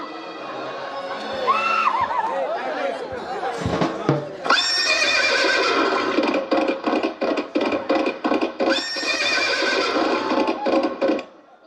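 A horse whinnies loudly several times while hooves clop in a quick, uneven rhythm close by.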